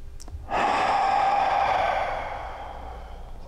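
A person demonstrating core-exercise breathing, inhaling through the nose and then a long audible exhale through the mouth that fades away, close and alone.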